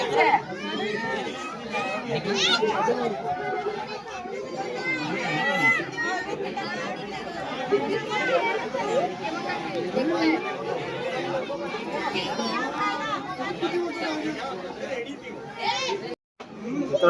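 Dense chatter from a big crowd of visitors at the Mumbai zoo (Rani Baug), with adult and children's voices overlapping in a continuous, close hubbub that briefly cuts out near the end.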